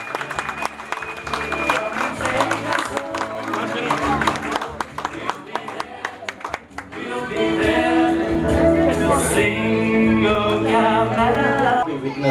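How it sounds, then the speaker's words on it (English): Audience applause fills a celebration marking 50 years of the Bahá’í Faith in Malacca, a dense, loud wash of clapping that swells after a stretch of music and crowd noise. "Special round of applause for Uncle Kit Yin Kiang"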